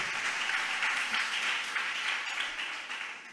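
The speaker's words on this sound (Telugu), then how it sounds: "అందరు చప్పట్లు పెట్టారు." Applause for a student at a Passover sermon gathering, steady and fairly soft, a continuous patter of clapping lasting a few seconds before tapering off slightly at the end.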